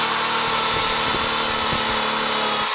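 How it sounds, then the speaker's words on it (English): An orange buffing ball spins against a piece of 2024 aluminum polished with Flitz, giving a loud, steady motor whine with rough rubbing and grinding pulses close up. "I can see the buffing ball is starting to pick up some aluminum"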